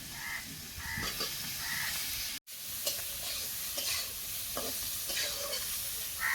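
Potatoes fry in a pan in a village kitchen, with a soft continuous sizzle and irregular scraping stirs. The sound is close but quiet, with no talk.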